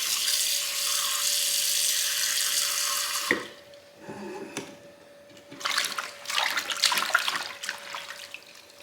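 Turnip greens being washed in water make a steady hiss of running water, which drops away into quieter sloshing and splashing, then returns as bursts of rushing water and handling.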